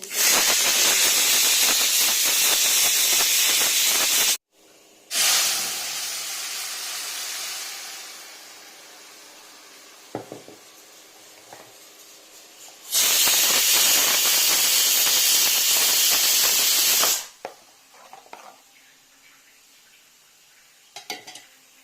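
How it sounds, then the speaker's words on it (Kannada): Loud sizzling and hissing of mustard seeds tempering in hot oil comes in two long bursts, with quieter stretches between them holding faint clinks of utensils. "ಸಾಸಿವೆ ಒಗ್ಗರಣೆ ಮಾಡ್ಕೊಳ್ತಾ ಇದ್ದೀನಿ"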